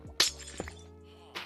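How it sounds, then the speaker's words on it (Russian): Cobblestone and glass blocks are broken in Minecraft: a sharp shattering crack, then a second smaller break a moment later, followed by another brief crash near the end over a low synthetic drone. "Ломаем 2 булыжника и стекло."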